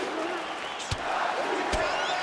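A crowd in the video game UFC 5 roars steadily in the background with a couple of sharp thuds, while a commentator talks over it.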